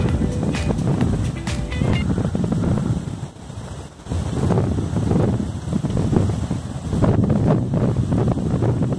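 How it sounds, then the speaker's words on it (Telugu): Strong wind buffets the microphone on a hilltop during a trek, low rumbling gusts that surge and ease, loud and close, with a brief lull midway before blasting again. "చాలా గాలి ఉంది."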